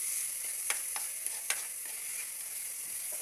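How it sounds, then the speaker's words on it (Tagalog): A utensil stirs herbs and spices into a spicy tuna spaghetti sauce in a pan, with a steady soft sizzle and a few sharp scraping clicks near the start, close and fairly quiet. "Mix lang po hanggang sa mahalo lahat ng ating herbs and spices po."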